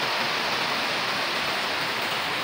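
Rain falls steadily as an even, dense hiss that stays constant throughout, fairly loud and close, with no talking.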